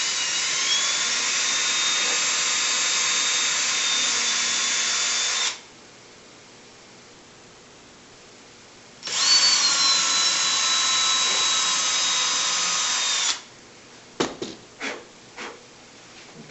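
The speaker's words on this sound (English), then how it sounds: "Go in and carefully drill these pilot holes." A power drill bores pilot holes in wood for a fishing tackle box, running in two long steady high-pitched bursts of about five seconds each with a pause between, then a few short clicks and knocks as it is set down.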